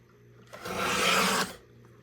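A single short, close rasping swipe of about one second as a strip of cardstock is trimmed to size for a trifold shutter card photo album, with quiet before and after.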